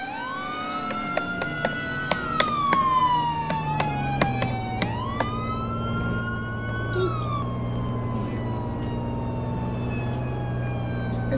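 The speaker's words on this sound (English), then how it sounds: "here's my mom in this police car" Police car siren in a Roblox-style video game, a steady rising-and-falling wail running throughout with occasional sharp clicks over a low engine hum.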